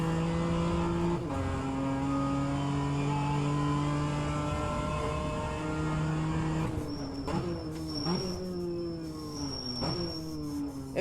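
BMW M2 CS engine in the rFactor 2 racing game drones steadily at high revs, then drops and climbs through several quick gear changes, loud and continuous with no talking.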